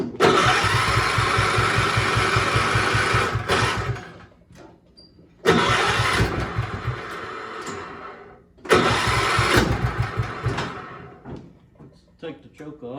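An old Kohler K181 engine is cranked three times, catching and running roughly for a few seconds each time with a pulsing chug before dying away, close by, with people speaking around it.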